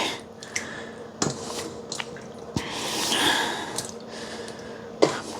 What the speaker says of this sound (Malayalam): ഈ കൊളാണ്ടറിലേക്ക് നമുക്കിതൊന്ന് മാറ്റി ഇതിൻ്റെ വെള്ളം ഒക്കെ ഒന്ന് കളയാം